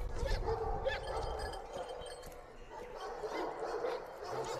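A Turkish Shepherd dog barks and whimpers, with yips and soft whines heard at moderate distance amid outdoor background noise.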